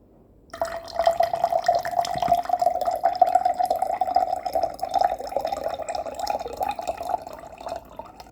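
Water pours steadily into a container, filled up to 7 cm for a physics experiment on sound frequency in water; a continuous close stream with a faint rising pitch, no talk.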